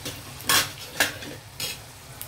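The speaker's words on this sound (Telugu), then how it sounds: "ఈ తాలింపులో వేడి నూనెలో నిమ్మకాయలు వేసేద్దాం మనం ఇప్పుడు." Lemons stirred in a hot oil tempering for pickle: a quiet sizzle broken by three sharp scraping clatters of a utensil against the pan, close up.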